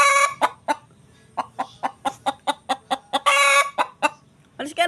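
A hungry hen that has eaten her own egg clucks loudly and close by, in a steady run of sharp repeated clucks with a few longer squawks mixed in, and no voices over it.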